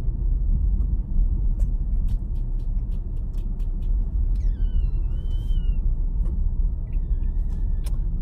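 A car driving along a road, heard as a steady low rumble of engine and tires that holds even throughout, with faint high chirps and whistles sounding briefly above it.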